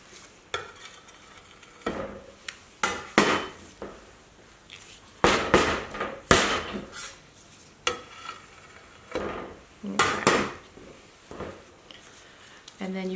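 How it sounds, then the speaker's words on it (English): A dough cutter scrapes and trims spilled soap from the edges of an acrylic mold, producing a series of sharp, close scraping strokes in irregular bursts with quieter handling between them. "if you can actually trim that up. And I just like to use a dough cutter."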